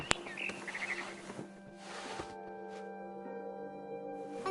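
Barn swallow chirping outside a window in a PS4 game, a quick run of bright chirps in the first half-second over steady electronic hum and tonal background drones, then fading into the ambience.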